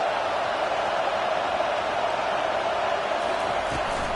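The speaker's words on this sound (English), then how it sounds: "This crowd bringing the energy and noise early." A football stadium crowd making steady, broad roaring noise early in a game, a constant wash of cheering heard from within the stands, with a commentator talking over it.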